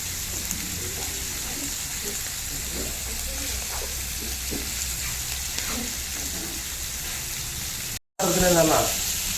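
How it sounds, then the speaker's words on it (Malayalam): Steady hiss of food frying in a pan, a constant sizzle running throughout with speech murmuring over it, briefly cut out before returning louder with stirring. "പെട്ടെന്ന് ഫ്രൈ ആവുന്നു."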